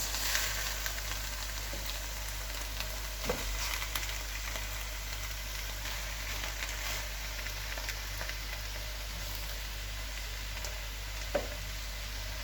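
Chicken pieces and onion frying in a mix of olive oil and regular oil for a Moroccan chicken and vegetable tagine make a constant soft sizzle with occasional light clicks, with no talking.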